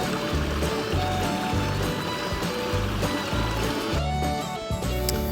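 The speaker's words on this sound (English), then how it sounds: "You don't want to miss taking a look at this beautiful koi pond and waterfall that is out back" Waterfall splashing steadily into a backyard koi pond, a continuous close rushing and trickling wash of water with a dense, unbroken texture throughout.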